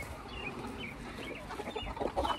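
Chickens clucking and murmuring nearby, a busy scatter of short calls that grows a bit louder toward the end.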